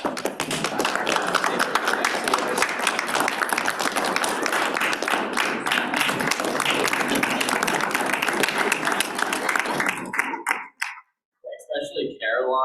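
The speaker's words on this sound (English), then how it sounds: "If y'all could stand up and we can all clap for you." Audience applause at a sports law review symposium, a dense, steady round of clapping from a crowd lasting about ten seconds before breaking off into scattered final claps.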